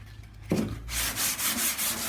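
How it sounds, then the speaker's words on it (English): Sandpaper rubbed by hand across body filler on a 1979 Ford F150 truck gives a short series of rhythmic scratchy strokes, close and fairly quiet, with no talking. "As I run this sandpaper across this,"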